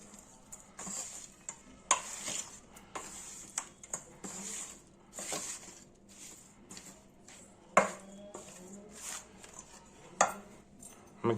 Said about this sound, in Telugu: ఇప్పుడు ఇవన్నీ మిక్స్ చేసుకొని పెట్టుకోవాలి.